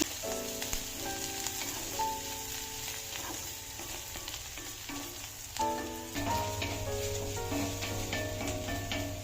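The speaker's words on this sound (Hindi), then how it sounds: "देखो प्याज भी जब हम भून रहे हैं तो मंदी आंच पे भून रहे हैं" Onions fry slowly over a low flame in a pan with cumin for sarson ka saag, giving a steady soft sizzle and crackle with scattered stirring scrapes. Kitchen clatter sounds now and then, and the sizzle grows louder near the end.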